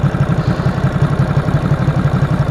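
Ducati Super Sport S motorcycle idling while warming up, a steady low rhythmic pulsing burble, close and even, with no voices.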